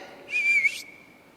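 A person whistles one short, clear note, close and distinct, briefly imitating princes whistling in a palace during a told story.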